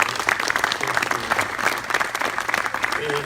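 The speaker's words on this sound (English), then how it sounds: "I want to give Brian a round of applause because he did great job" An audience applauds for Brian at a company headquarters announcement event in Hawkins County, Tennessee, a steady wash of many hands clapping throughout, with faint voices underneath.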